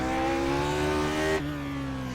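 A Lotus 49 racing car with a naturally aspirated engine in iRacing, holding a steady high-pitched engine note, then dropping in pitch as the revs fall. It is loud and close, with no speech over it.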